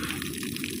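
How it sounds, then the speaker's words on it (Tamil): Water and crude oil gush steadily out of a pipe on a 15 hp motor being dismantled, a continuous close rushing flow with no pause. "பைப்பு கட்டு தண்ணி குருடாயில் வருது வெளியில."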